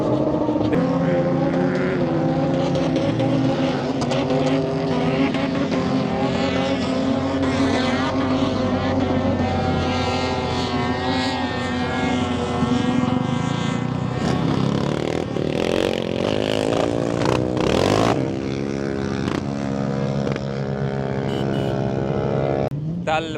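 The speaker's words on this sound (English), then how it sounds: "Literally a race on the sand dune." Engine of a car racing up a sand dune at the Liwa 2025 Tal Moreeb event in the UAE, a loud, steady, sustained motor roar with rising pitch and bursts of revving near the end, continuous throughout.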